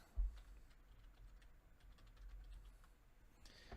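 Fingers tap a computer keyboard in a quiet room, with soft, irregular keystrokes and a low background hum. The typing is faint and continuous, and no one speaks.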